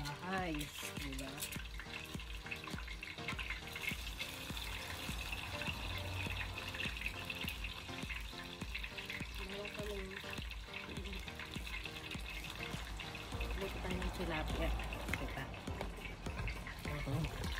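Tilapia fish fry in a pan, a continuous close sizzle with some stirring and watery sounds mixed in, steady throughout.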